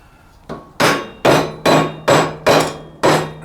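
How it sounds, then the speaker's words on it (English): A hammer taps a shaved-down broomstick into a motorcycle fork on an ATC three-wheeler, with six or seven sharp, evenly spaced knocks ringing close and loud after one lighter opening tap. "take yourself a hammer"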